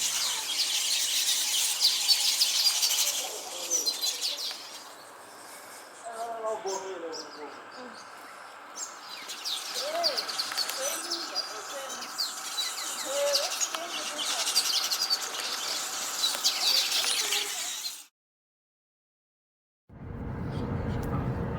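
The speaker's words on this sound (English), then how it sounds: "I amused myself watching the weaver birds in the tree at the lodge gate." Busy chattering and squeaky calls of weaver birds in a tree, many overlapping, with occasional background noise before a sudden cut.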